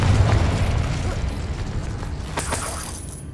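A Confringo blasting curse explodes in the Hogwarts Legacy video game, a loud booming burst that decays into crackling, shattering debris over about three seconds.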